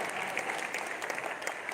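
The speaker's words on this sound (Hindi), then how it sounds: "बजाओ भाई जरा जोरदार तालियां।" An audience at a Hindi comedy poetry gathering in a Jain hall claps continuously, a dense spread of many hands heard at moderate distance and fairly quiet, with no speech.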